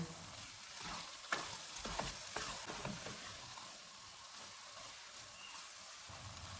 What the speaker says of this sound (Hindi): धनिया डालेंगे, इसको मिक्स करेंगे।